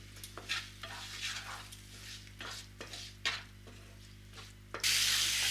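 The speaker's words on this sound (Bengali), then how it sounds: "মশলাটা ভাজা হয়ে গেছে মশলা থেকে তেলটা ছেড়ে এসেছে" Oil sizzles softly under a spoon scraping and clinking against a metal pan as a ground spice paste is stirred, ending in a loud burst of hissing.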